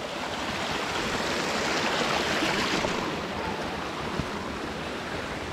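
Continuous rushing of a flowing mountain stream, a broad steady wash with no voices, moderately close.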